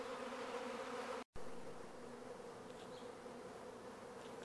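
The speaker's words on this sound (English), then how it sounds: "This is the second swarm of the year." A swarm of honeybees fills the air with a dense, steady drone, close and continuous, broken by a brief dropout near the start before the buzzing resumes unchanged.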